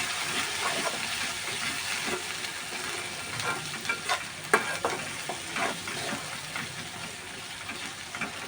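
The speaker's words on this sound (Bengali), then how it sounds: "আদা রসুনের আর হলুদের কাঁচা গন্ধটা যেন না থাকে, এই জন্য ভালো করে কষিয়ে নিলাম।" Ginger, garlic and turmeric paste frying in a pan while being stirred, a steady close sizzle with intermittent scraping stirs, no voices.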